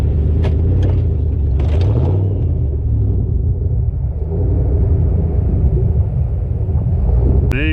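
A V8 Jeep ZJ with 33-inch tires on 2 inches of lift grinds up a hill. Its engine rumbles low and steady under heavy wind buffeting, with a few knocks and clatters from the trail.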